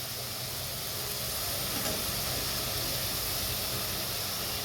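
Chilli, cumin and spice paste frying in hot oil for a fish-ball curry, a steady close hiss and sputter that holds evenly throughout with no talk.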